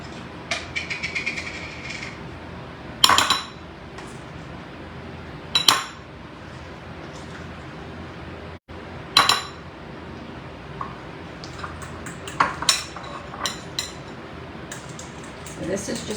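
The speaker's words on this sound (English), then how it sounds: "Let me get a fork so I can mix it up real good." A fork mixes mayonnaise and spicy brown mustard in a dish, making bursts of sharp metallic clinks and scrapes against the container between quieter stretches.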